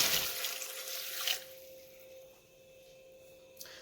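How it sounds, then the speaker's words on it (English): Water streams from a tap or pitcher into a pot of Southern collard greens for just over a second, a soft rushing splash that cuts off to a low steady hum and a faint drip. "Just gonna put a little more water."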